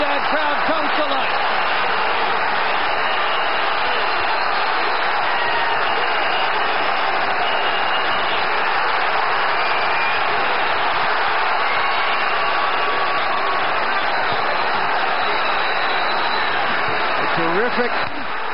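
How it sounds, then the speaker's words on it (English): A pro-Trinidad boxing crowd at the Felix Trinidad vs William Joppy fight roars continuously in a dense, steady wash of cheering, with an announcer's voice talking over it. "And the pro Trinidad crowd comes to life."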